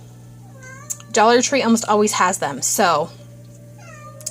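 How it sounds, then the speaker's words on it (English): Several house cats meow repeatedly and close by in a home kitchen, a run of loud, wavering cries in quick succession, with a voice talking briefly before them. "sorry if you hear kitties in the background."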